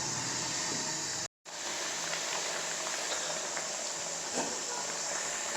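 Masala paste frying in a pan over a high flame, a steady dense sizzle and hiss with faint crackles, continuous and close apart from one brief dropout.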